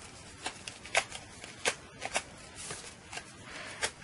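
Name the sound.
bone folder curling paper edges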